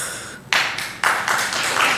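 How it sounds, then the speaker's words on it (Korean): Audience applause in a church after a flute and organ performance, bursts of clapping starting suddenly and continuing steadily, fairly close and loud with no talk. "박수를 치지 말라 그래도 치네요"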